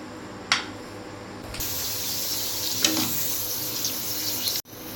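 Ready-made puris fry in hot oil with a continuous bright sizzling hiss, joined by a few sharp pops and crackles, close and steady before cutting off abruptly near the end.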